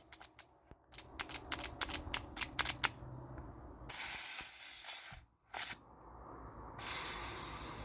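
A modded T4E HDP50 CO2 pistol with new PEX pipe detents dry fires in a quick series of sharp mechanical clicks, then vents CO2 in loud hissing bursts as it degasses, with brief pauses between the sprays.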